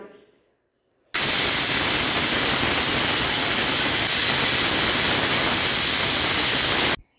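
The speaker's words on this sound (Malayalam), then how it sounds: "കുക്കർ അടച്ച് വെച്ച് ഏകദേശം ഒരു രണ്ട് വിസിലിന് കറി ഒന്ന് നന്നായിട്ട് തന്നെ ഒന്ന് വേവിച്ചെടുക്കണം" A pressure cooker cooking chicken masala curry vents steam: a loud, steady hiss starts abruptly and roars continuously for several seconds before cutting off.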